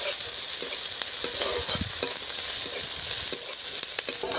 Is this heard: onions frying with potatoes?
yes